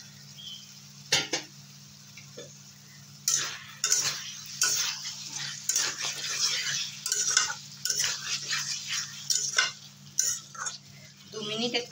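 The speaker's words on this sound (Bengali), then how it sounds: "দু মিনিট একটু নেড়েচেড়ে কষিয়ে নেব" Fried pointed gourd is stirred in a pan, with repeated metal spatula scrapes and clatters over a faint steady sizzle and a low background hum.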